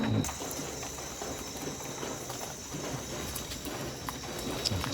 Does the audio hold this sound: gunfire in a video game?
no